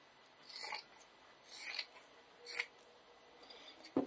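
Scissors cut through fabric for a green floral table runner in four short, quiet snipping strokes, spaced about a second apart, with a sharper click at the end and no talk.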